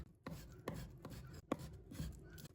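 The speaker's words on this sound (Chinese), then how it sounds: "再切成小粒" Close knife chops on a board, dicing pork into small pieces, a handful of separate cuts spaced unevenly, with light scraping between them.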